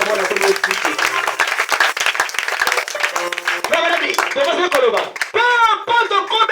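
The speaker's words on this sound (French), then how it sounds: "Acclamons le Seigneur." A church congregation claps and cheers to acclaim the Lord, dense rhythmic applause with voices shouting and singing over it throughout, loud and close.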